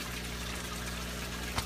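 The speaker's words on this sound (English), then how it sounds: "So the water coming up to go out actually is filtered." Water trickling steadily through the filter of a dual-loop aquaponics tank, a constant soft flow with a faint low hum and one small splash near the end.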